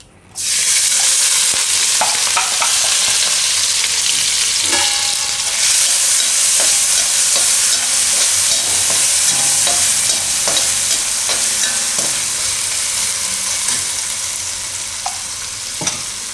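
Ginger, chillies and garlic sizzle in hot oil while being stirred, a loud steady frying hiss with frequent scraping clicks of the spoon against the pan, continuing without talk.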